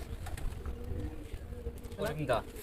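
Pigeons at a tournament release, with soft cooing and bird calls over a steady low background, a short burst of louder calls near the end, and people talking faintly.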